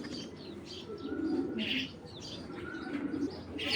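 Black racing pigeons coo in low, rolling throaty calls, with several birds close together and chirps and faint wing movement mixed in.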